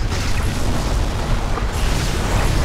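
Missile explosions in the MechAssault multiplayer game, a dense, sustained roar of booming blasts that continues loudly throughout with no pause or clear break.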